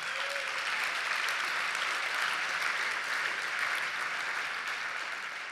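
Steady, dense applause from a large audience at an anniversary event, continuous crowd clapping held at an even level throughout, slightly distant and without talk.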